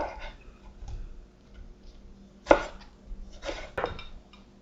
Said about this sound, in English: I'm going to dice in a little bit of broccoli